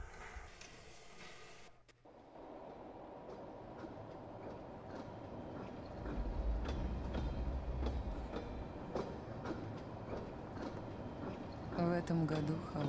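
Train car rolling in the video game Pathologic 2, a steady low rumble with rhythmic clicking of wheels on rails, growing louder midway, with a soft tonal game sound near the end.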